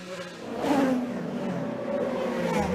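IndyCar race cars pull off pit road at Indianapolis during a yellow-flag stop, engines droning and revving at a distance in a continuous, moderately loud wash.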